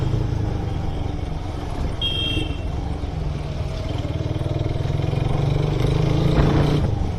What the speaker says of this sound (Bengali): আপনারা তো বাইক চলছে শুনতেই পাচ্ছেন খেড়া খেড়া খেড়া করে আওয়াজটা।